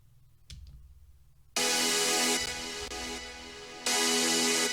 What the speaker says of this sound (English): really simple white noise, you can use whatever, but I have high passed it pretty steeply at around 9k